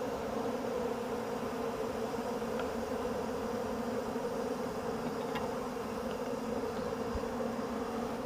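A dense, steady drone of many bees hums around a newly placed backyard colony in Uganda, continuous and close, without any talk.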